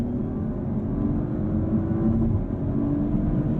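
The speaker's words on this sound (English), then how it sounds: "little burble from the exhaust and overrun." A low, rumbling engine burble on overrun from the exhaust of a 2023 Audi RS5 Competition, steady and close, with faint irregular pops as the engine runs without speech.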